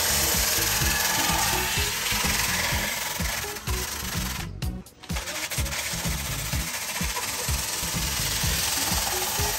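A utility cutter slices through tarpaulin being fitted to a heavy work table outdoors, a steady loud rhythmic rasping and scraping that runs throughout with a brief break midway.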